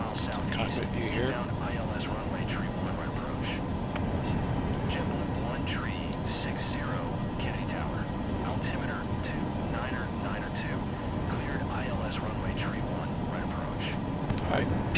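An airliner flies low over Central Park in Flight Simulator 2024, a steady broadband engine roar heard from the cockpit with a faint voice murmuring underneath throughout.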